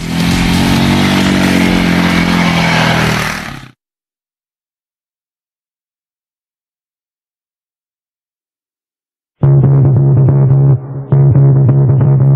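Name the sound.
TGB Target 550 quad engine while riding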